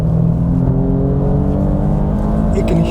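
An Alfa Romeo Stelvio with a Ferrari-derived engine, heard from inside the cabin on a racetrack as a loud, steady engine drone that holds at an even pitch without any speech.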